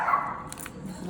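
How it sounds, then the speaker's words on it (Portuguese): A small pet dog gives a quick bark or two, close by and brief, with faint room noise around it. "essa é a minha cachorrinha Belinha latindo"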